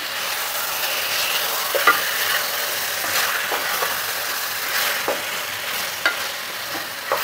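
Chicken being fried with masala in a pan, a steady close sizzle with occasional stirring scrapes and clinks spread through the clip, no talk.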